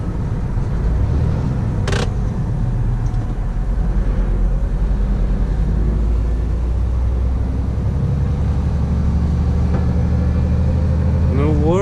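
Scania G450 truck engine runs as a steady low drone from inside the cab, with voices talking over it throughout.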